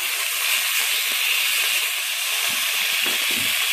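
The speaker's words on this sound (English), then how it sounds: "First thing we're going to do is just render down the bacon" Bacon rendering in a Dutch oven, a dense, steady high hiss of fat sizzling close by, with a few soft low bumps near the end.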